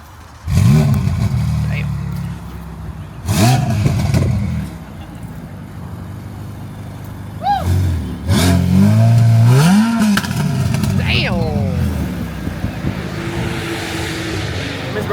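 A Ferrari 812 and a Lamborghini Aventador rev hard and pull out at a car show, with several loud, rising engine bursts and downshift blips close by, while onlookers exclaim over them.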